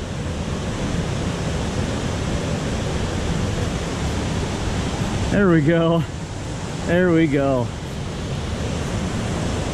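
Water pours steadily over a small waterfall in a broad, constant rush. Someone speaks briefly twice over the roar.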